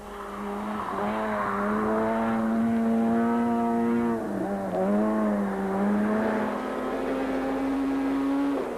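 Two VW Polo rally cars race flat out on a gravel stage, engines screaming with rising pitch, a brief dip and lift as revs drop and climb again, loud and continuous throughout.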